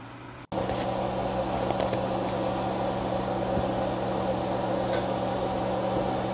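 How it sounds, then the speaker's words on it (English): A kitchen fan runs steadily during chili cooking, a constant whooshing drone with a low hum, heard close and unchanging after a brief dropout at the start. "I apologize for the noise of the fan"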